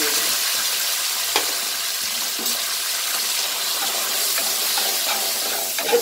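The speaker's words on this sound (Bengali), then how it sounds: "এটা হালকা ভাজা ভাজা হবে কিন্তু এটা লো ফ্লেমে ভাজতে হবে" Steady, close sizzling of cumin powder and chili powder frying in a pan on low flame, a soft continuous hiss with occasional small pops and stirring scrapes, no voices.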